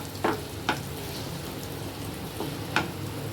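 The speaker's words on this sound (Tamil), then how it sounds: "நல்லா அந்த அல்வா பதத்துக்கு வர்ற வரைக்கும் நம்ம கலரி விட்டுகிட்டே இருக்கணும்" Sweet potato halwa with ghee stirred in a pan, a soft steady sizzle broken by a few distinct scraping strokes of the spoon, quiet and close.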